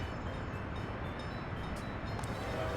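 Train in the Workers and Resources game, a faint, steady rumbling rail hum with no distinct clacks or horn, continuous and distant-sounding for the whole short stretch.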